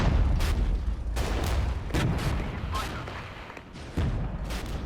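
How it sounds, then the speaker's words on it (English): Artillery fire in the Regiments war game, with T-55 tanks, Leopards and BMPs in combat: repeated heavy booms and blasts hit at irregular intervals over a constant rumbling battle din. "I'll put more artillery on the T-55s."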